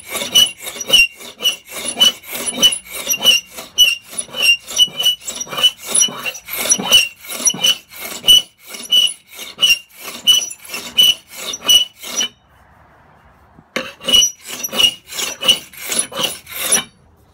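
A scraper rasps across a raised high point of layered fiberglass in quick, rhythmic back-and-forth strokes, loud and close, with one short pause before the scraping resumes.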